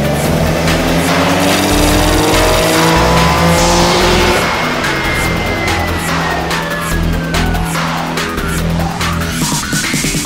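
A tuned 2012 Nissan 370Z engine runs hard on a dyno during air-fuel and ignition timing adjustments, a loud, sustained drone with rising and falling pitch sweeps as revs climb and drop, heard alone without talk.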